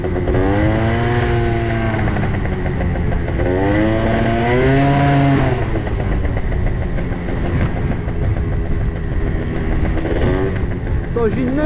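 A dragster engine driven through city streets, a loud, continuous, close engine roar with rising and falling revving pitch throughout.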